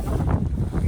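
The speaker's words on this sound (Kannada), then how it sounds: "ಗಾಳಿ ಕೆರೆಯಲ್ಲಿ ಹೆವಿ ಗಾಳಿ ಇದೆ" Heavy wind gusts across Gaalikere lake in the Bababudangiri hills, a loud, continuous rumbling buffet of wind noise close to the microphone.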